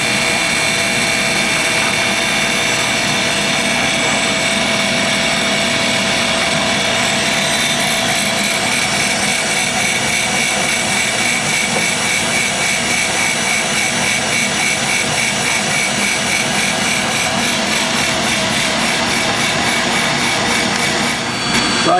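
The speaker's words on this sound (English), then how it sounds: "We flipped it over, indicated it in, snugged the screw, and we're ready to grind the other side." Surface grinder working the second side of a precision toolroom spindle, a steady loud whine and hiss of the abrasive wheel on steel that runs continuously and unbroken throughout, with no talk over it.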